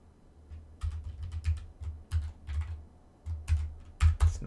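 Computer keyboard typing during a live coding session on the J programming language, heard as clustered bursts of clicky keystrokes close to the microphone, pausing between flurries, with no talking.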